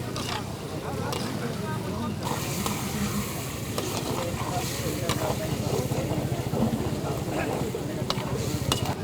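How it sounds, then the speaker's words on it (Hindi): Smoked pork dry fry being stirred in a pan makes continuous scraping and low sizzling, steady and close, with a voice speaking over it. "इसको चलाते हैं थोड़ा।"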